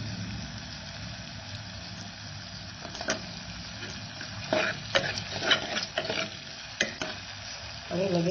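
Potatoes tumble into a hot pan of cauliflower for a diet-style sabzi, hissing and sizzling steadily with clinks and scrapes of stirring, fairly close and with no voices.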